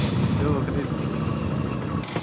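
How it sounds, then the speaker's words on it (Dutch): V4 motorcycle engine heard from inside a rider's helmet: a dense, continuous low rumble mixed with wind buffeting, steady and close throughout, with voices talking over it. "Ik hoor deze motor in jouw helm."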